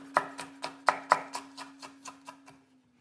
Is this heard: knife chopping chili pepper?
yes